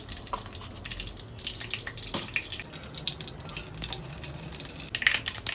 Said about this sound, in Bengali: এবার আমি সর্ষে ফোড়ন দিচ্ছি